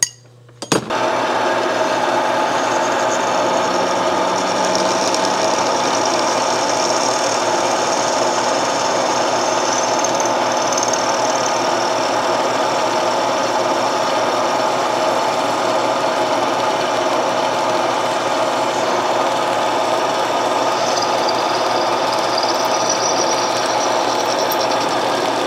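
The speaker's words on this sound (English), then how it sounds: "Now we got to drill a hole down here." A power drill whirs continuously at a steady, high-pitched drone for a long stretch after a brief start, loud and close with no speech, drilling a hole through Yamaha 250MX motorcycle parts.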